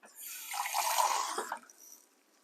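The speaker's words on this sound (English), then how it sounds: "Get some cold water." Cold water runs from a kitchen tap into a glass, a soft hissing flow that swells and then tapers off over a couple of seconds, close but fairly quiet.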